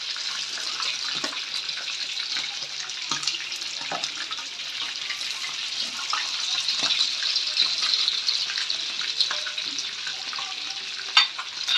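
Chicken pieces fry in hot oil on a stovetop after being turned, giving a steady, fairly loud bright sizzle with small crackles and pops throughout and no voices.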